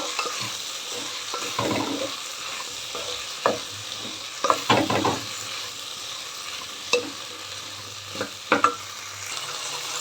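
Potato and vegetables for millet khichdi are stirred in a pan with a spoon, soft sizzling under irregular scraping strokes, close and fairly quiet, with no talking.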